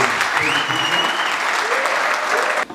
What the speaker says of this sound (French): pour qui je vous demande encore d'applaudir.